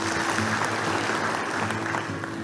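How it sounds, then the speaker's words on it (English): Sustained clapping from an audience at a 2022 IBCP class graduation ceremony, a dense even patter of many hands filling the whole short stretch. "Please give yourself a clap for that."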